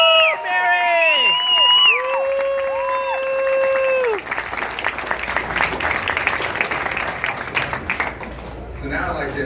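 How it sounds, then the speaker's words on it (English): A crowd at a foosball championship awards ceremony applauds and cheers for a retiring foosball player, loud and sustained, with whoops, while a musical tone sounds over the opening seconds. "give this woman a round of applause"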